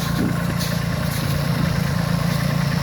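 A damaged Solis 26 tractor with a snow blade clears snow, its engine running with a steady, close, low rumbling drone and no pauses.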